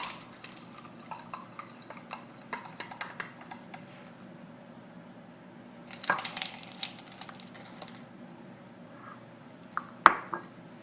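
Semi-sweet and bittersweet chocolate chips are measured into a bowl, giving light clicks and soft tapping, then two louder rattling pours of chips landing in the bowl.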